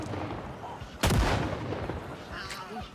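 A single sharp, booming gunshot in Project Zomboid cracks out loudly in the middle, leaving a short decaying tail over low game ambience.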